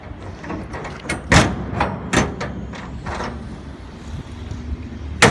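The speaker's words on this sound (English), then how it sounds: "The right hand door closes in the left hand rod." Steel shipping container doors being swung shut, giving a series of loud metallic clunks and bangs from the locking bars, spread over several seconds against a steady background, with no talking.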